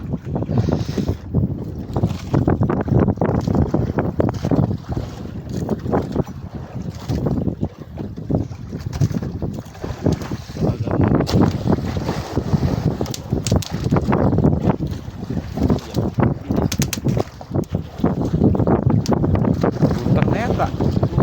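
Strong north wind roars and buffets the microphone continuously over choppy water during night fishing at sea, with people talking loudly underneath.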